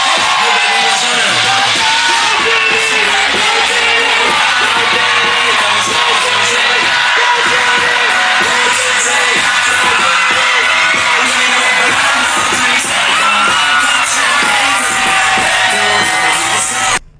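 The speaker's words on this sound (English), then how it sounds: "everybody cheering" A dense crowd yelling, whooping and cheering at a birthday party in a busy nightlife spot, loud and continuous throughout with overlapping voices and shouts.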